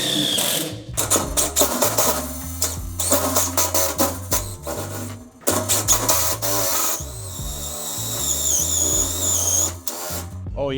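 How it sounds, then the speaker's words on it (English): Power drill with a bit boring through a steel planter, the motor whirring in repeated stop-start bursts of grinding and chattering, ending in a long rising whine as the bit pushes through. "So just go ahead and grab another one, and then you can finish drilling that hole."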